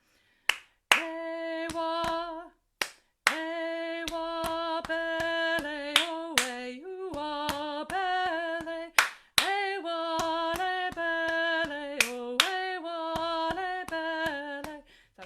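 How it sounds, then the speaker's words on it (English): Choir members clap their hands in a rhythm exercise: sharp, evenly spaced claps in steady patterns ring out over sustained sung or played tones, close and fairly loud. "So it's double tap, right, left, right, clap, clap."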